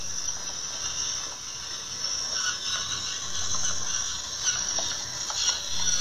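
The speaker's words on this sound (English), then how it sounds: "Need a little bit of salt. Got my trusty Fina mill right here." A Fina salt mill grinds whole salt in a kitchen, a quiet, steady ratcheting crunch close up that runs for several seconds without talking.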